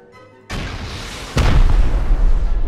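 A rocket blast in the game Rust hits a utility pole: a sharp loud boom after a quiet moment, then a second, heavier explosion with a deep rumbling tail that carries on to the end.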